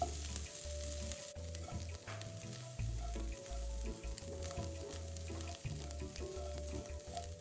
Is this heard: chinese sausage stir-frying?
yes